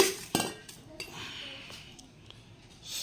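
A serving ladle clinks against plates and dishes while a Sunday fish curry meal is dished out, with a few close, bright metallic taps, the first strongest, then softer scattered clinks in a quiet room.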